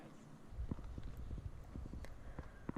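Hooves clip-clop in a quick, uneven series of soft, nearby thuds as a horse is ridden for the first time, faint overall with no talking.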